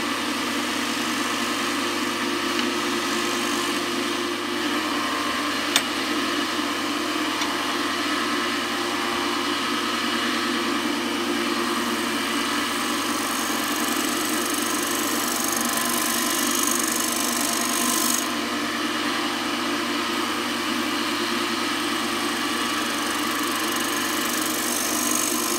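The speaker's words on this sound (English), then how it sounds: "Now I'm going to put a skew chisel in." A wood lathe spins a live-edged bowl as a one-inch skew chisel shapes it, giving a steady, loud motor drone that holds unbroken throughout with no talk.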